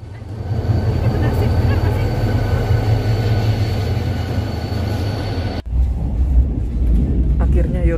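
A moving train carriage rumbles loudly and continuously from the inside, with a steady low roar of wheels on the rails and a brief dip partway through before the noise carries on.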